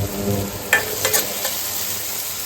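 Horse gram sprouts fry in a pan and are stirred, a soft steady sizzle broken by a few quick scraping strokes of a spatula, close up.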